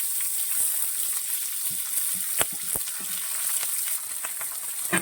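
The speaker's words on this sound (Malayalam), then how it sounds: "അപ്പൊ നമ്മൾ അരിഞ്ഞു വെച്ചേക്കുന്ന പയറും സവോളയും കൂടെ നമ്മൾ ഇട്ട് കൊടുക്കണം" Green beans and onion frying in a pan with browned coconut pieces, a steady loud sizzle with occasional stirring clicks and scrapes throughout, no talking.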